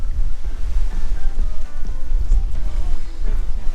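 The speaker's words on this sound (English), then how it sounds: "Once it started raining." Steady rain patters and hisses on a fishing boat, with wind and water noise rumbling underneath, fairly loud and continuous throughout.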